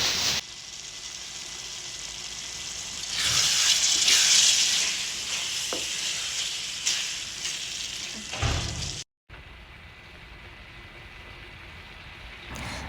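A lamb liver fry cooks on a low flame, a broad steady sizzle that swells midway, then drops out briefly before quieter cooking noise resumes.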